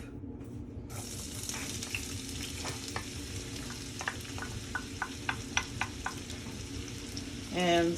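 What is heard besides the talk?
onion sautéing in a pan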